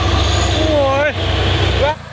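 A tanker truck climbs a steep hill with a loud, steady low engine drone, a brief dip in the middle, while someone talks excitedly close by.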